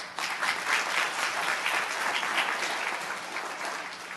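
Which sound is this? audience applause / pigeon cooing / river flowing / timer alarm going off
audience applause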